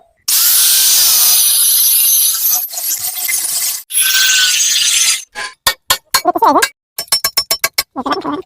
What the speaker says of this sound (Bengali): এখানে যে নাটের অবস্থা আমরা কোনোভাবেই খুলতে পারতেছি না এই কারণে গ্রাইন্ডিং মেশিন দিয়ে কেটে ফেলবো